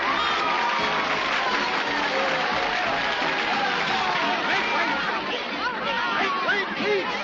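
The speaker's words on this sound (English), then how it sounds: "if you cheer loud enough, I'm sure she'll sing it for you" A theater audience cheers and applauds in a steady, dense wash of clapping and excited crowd voices, loud throughout with whoops rising above the din.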